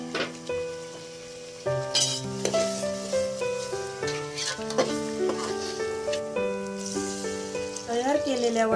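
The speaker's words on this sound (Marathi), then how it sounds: "थोडंसं पाणी घालून मिश्रण व्यवस्थितपणे शिजवून घेऊया।" A besan and coriander mixture with water cooks in a pan and is stirred, sizzling with scraping strokes and occasional utensil clinks beneath louder background music that plays throughout.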